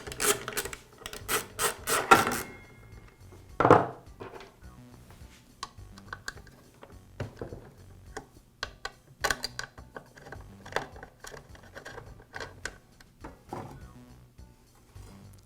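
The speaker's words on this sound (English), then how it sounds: "I'll begin by removing the guard assembly from the saw." Small clicks, taps and rattles come from a guard assembly being removed from a Makita miter saw, close and intermittent, with a cluster of quick knocks early on and sparse faint handling noises after.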